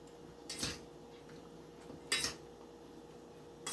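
Bread stuffing being folded and mixed in a bowl: three or four spaced, faint clinks and scrapes of a utensil against the dish over a quiet background, with no talking.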